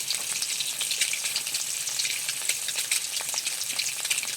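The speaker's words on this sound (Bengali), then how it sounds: "আর মশলাটা বেশ সুন্দর করে ভেজে নিয়েছি" Spice paste for a potato, pointed gourd, egg and prawn curry fries in oil in a pan while being stirred, a steady close crackling sizzle with bright spattering pops and no voices.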